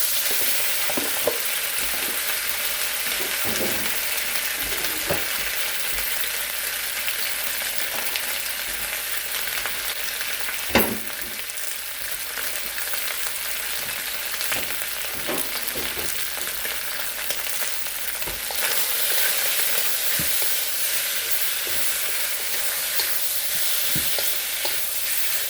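Beef frying in hot oil for Chinese pepper steak, a steady close sizzle with scattered scrapes and clicks from stirring throughout, no voices.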